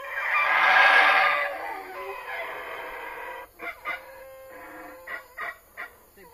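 Howler monkeys calling, a loud drawn-out roaring cry followed by a series of shorter, choppy barking bursts that fade somewhat, with no talk.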